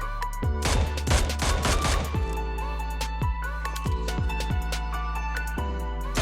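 Mini 14 rifle fire in PUBG Mobile, heard as fast rapid shots at first, then spaced single gunshots with ringing tails over constant game background noise.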